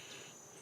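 Dense insect chirring outdoors near an abandoned shelter, where grasshoppers swarm by the thousand, a steady high buzzing that holds close and constant through the short stretch with no voices.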